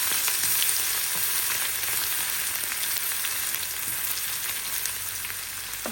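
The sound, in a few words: frying ginger garlic paste with turmeric and curry leaves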